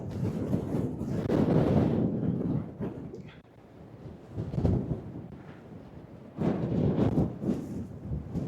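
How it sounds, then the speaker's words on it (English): Strong coastal gusts at Whitesands Bay, Pembrokeshire, Wales buffet the microphone in heavy, roaring bursts that rise and fall, with quieter lulls between the blasts. "It's pretty windy, so hopefully my microphone is doing a decent job."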